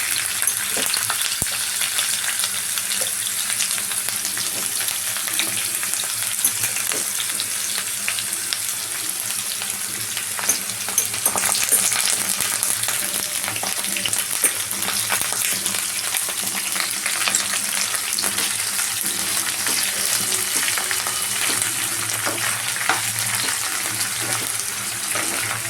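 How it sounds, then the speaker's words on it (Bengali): Pumpkin leaf stems hiss and sizzle in hot oil with partly fried potatoes in a pan, a steady broadband frying noise running throughout with a few faint stirring clinks and no talk. "এরপরে আমরা যেটা দেবো হচ্ছে এই ডাঁটাগুলোকে, মানে কুমড়ো শাকের ডাঁটাগুলোকে দিয়ে দেবো"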